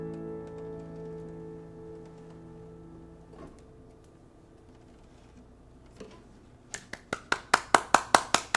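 Hand clapping begins near the end after a quiet, tonal lull: a few close, sharp claps in a steady rhythm, growing louder, with no talk over them.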